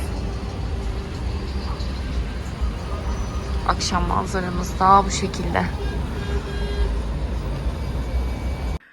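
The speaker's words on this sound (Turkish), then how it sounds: "Şimdi de araba sesinden duramıyoruz." Cars passing on a road near a home in the evening, a steady background traffic rumble with a brief horn-like toot, while someone talks over it.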